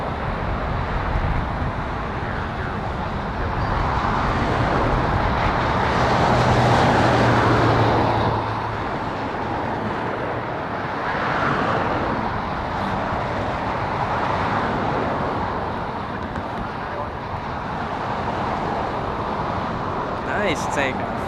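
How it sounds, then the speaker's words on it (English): A jet airliner takes off at LAX, a broad, steady roar that swells and fades over about twenty seconds, loud and fairly distant, with people talking over it. "Nice takeoff. I love that takeoff."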